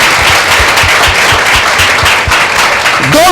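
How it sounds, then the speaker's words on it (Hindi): A church congregation clapping hands together in a loud, rhythmic, unison beat, close and steady, with a brief voice rising near the end. "Clap your hands to Jesus."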